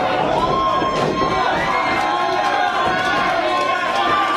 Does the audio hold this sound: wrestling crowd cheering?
yes